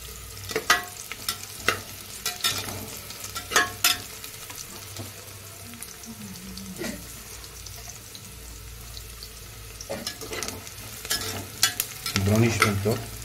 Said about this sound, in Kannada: ಬ್ರೌನಿಶ್ ಆಗೋವರೆಗೂ ಫ್ರೈ ಮಾಡ್ಬೇಕು